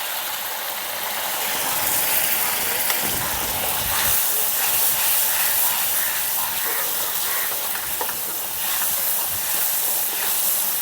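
Spices for mustard pabda fish sizzle and hiss steadily in a hot pan, a loud, continuous frying sound close up with no talking over it.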